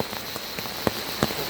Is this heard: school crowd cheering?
no